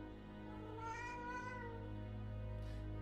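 A cat in the Alfred Hitchcock Vertigo video game gives a few drawn-out, whiny meows, loud and close over a steady low background hum.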